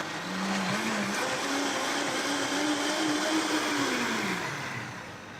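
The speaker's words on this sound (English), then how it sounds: "Now the idea is that you use a high-speed blender" A high-speed blender blitzing wasabi, lime and apple cider: a loud, steady motor whine with a grinding roar that wavers in pitch as the contents churn, then eases off at the end.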